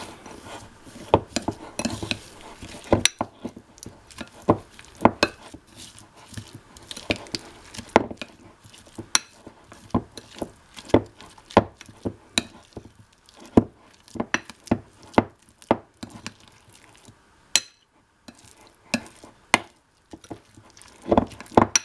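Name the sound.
mixing butter, salt, garlic and oregano spread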